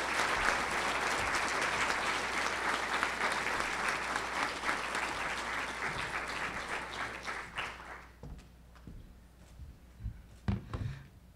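An audience at a college awards ceremony claps steadily for an arriving commander, loud and dense for several seconds before fading into scattered final claps and a few faint voices.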